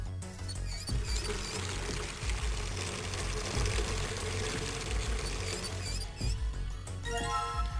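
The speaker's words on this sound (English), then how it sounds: "Hey, Seven, could you turn on the shower? I'm gonna put the bucket under the head." Shower running full force into a bucket, filling it with hot water in a game shower room, a steady dense rushing spray with faint clinks, continuous and close throughout.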